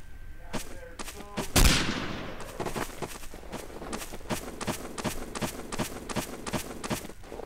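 Rapid gunfire in a WWII shooter game (RC 1944), with a loud close shot near the start followed by a steady run of sharp regular cracks and footsteps throughout.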